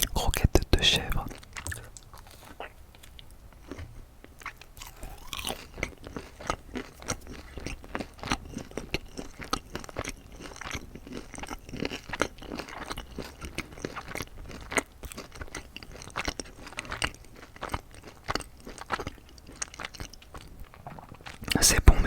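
Someone eats McDonald's goat cheese croquettes close to the microphone, with steady crunching, biting and wet chewing running throughout, along with soft whispered or quiet speech and occasional scraping.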